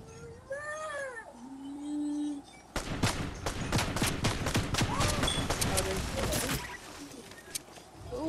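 A video-game firefight opens with cat-like meowing tones, then rapid bursts of gunfire crackle over several seconds. A voice talks over the shooting.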